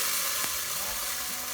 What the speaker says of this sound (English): Okay, so the garlic is sizzling nicely.